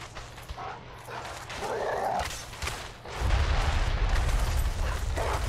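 Dogs in the Dark Souls 3 video game, Ashes of Ariandel area, give short yips and whimpering barks over game ambience, followed by a louder rumbling swell of combat noise.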